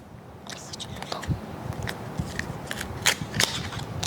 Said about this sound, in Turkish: Şarj kablosu. Şimdi açalım.